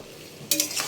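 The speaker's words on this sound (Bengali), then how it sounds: "ভালো করে মিশিয়ে এইভাবে নেড়ে নেব" Shukto vegetables are stirred in a pan, with a half-second of quiet giving way to a loud burst of scraping and sizzling close by, no voices.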